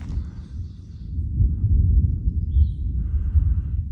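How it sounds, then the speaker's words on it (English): Thunder from a storm along a hiking trail near a hostel: a low, muffled, distant rumble that builds and rolls on for several seconds, faint and without voices. "I don't know if you can hear that or not, but that's thunder."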